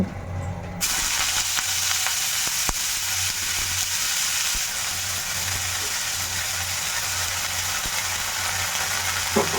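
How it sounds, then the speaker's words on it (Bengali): Dry red chillies, bay leaves and whole garam masala tempering in hot oil for a Bengali curry: a sudden loud sizzle bursts in as they hit the pan and continues as a steady, close crackling hiss, with occasional small pops and clicks. "ফোড়ন দিয়ে দিলাম শুকনো লঙ্কা তেজপাতা গোটা গরম মশলা দিয়ে দিলাম"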